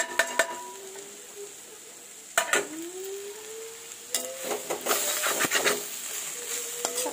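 A spoon stirs a jackfruit seed stir-fry with ginger in a pan, giving scattered sharp clacks and scrapes against the metal over a steady low sizzle.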